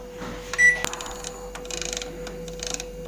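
A microwave oven set to combi mode for roasting a whole chicken, with a beep, a door or button clunk, then key taps and a steady low running hum nearby.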